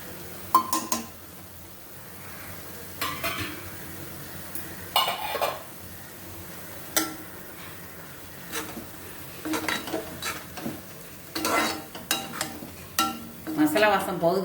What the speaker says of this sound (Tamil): மசாலா வாசம் போகுது வரைக்கும் நல்லா வதக்கிடுங்க.